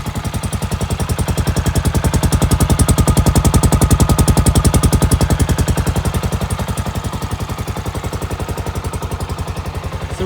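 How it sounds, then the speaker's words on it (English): A Royal Enfield motorcycle with a free-flowing exhaust and a rich fuel mixture idles steadily nearby, its loud, even pulsing thump swelling slightly midway before settling back, with no voices. "Let you hear that exhaust."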